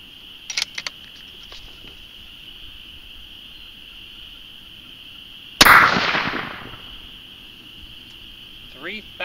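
A single loud .243 rifle shot fired outdoors, a sharp crack at about the midpoint with a decaying tail, over a steady high insect-like drone, with a few faint clicks before it.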